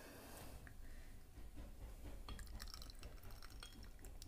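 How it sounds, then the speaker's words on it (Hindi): Water poured into a squeeze food feeder for a baby: a faint, steady trickle with small drips and splashes, quiet and close, with no talk. "75 ml वाटर इसके अंदर डाल लिया है।"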